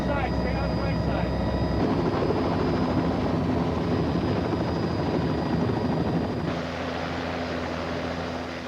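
Helicopter flying over Mount St. Helens in 1980, a loud steady rotor and engine roar filling the whole clip, its tone shifting slightly near the end.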